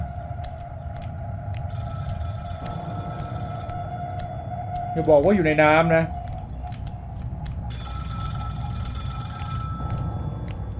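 A telephone rings at a phone booth in the horror film Scream, repeated electronic ringing tones with a short burst of voice partway through.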